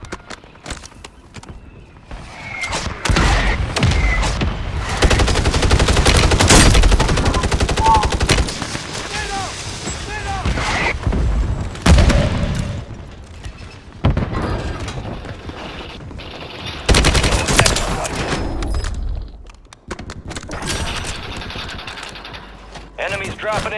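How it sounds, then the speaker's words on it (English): In a Call of Duty match, mortar strike explosions and rapid gunfire crash continuously and loudly, with heavy bursts and rattling volleys throughout, tapering briefly near the end. "Copy your mark. Mortar strike inbound."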